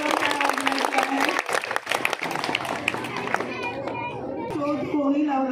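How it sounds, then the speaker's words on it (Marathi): Children clapping loudly together in a classroom quiz, a dense burst of applause mixed with chatter and playful voices, fading into a spoken voice over the last seconds. "सर्वांनी जोरदार टाळ्या वाजवायच्या आहे."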